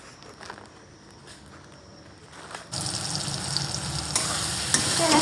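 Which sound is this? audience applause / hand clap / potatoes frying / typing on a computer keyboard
potatoes frying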